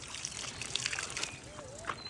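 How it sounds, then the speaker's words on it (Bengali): Water poured into containers, a soft trickle and splash under faint background voices and household noise. "ধরো এগুলোতে পানি দি"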